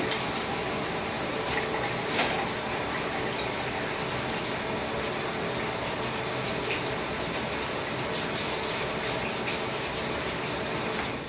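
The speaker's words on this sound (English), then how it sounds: "I'll cut the water on." A water tap runs in an operating room for a brief hand wash before a surgical scrub, a steady loud hiss and gush of flowing water.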